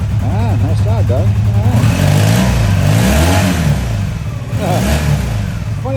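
Restored vintage motorcycle engine running in a shop, loud rough idle broken by repeated throttle blips that rise and fall in pitch, with people talking over it.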